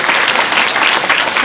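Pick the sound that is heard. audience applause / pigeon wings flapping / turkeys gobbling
audience applause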